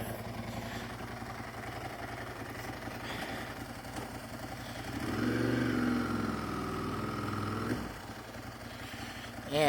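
A 1999 Ducati 996 superbike engine runs steadily, its mid-pitched drone swelling louder for a few seconds as revs rise, then settling back, heard close and continuous.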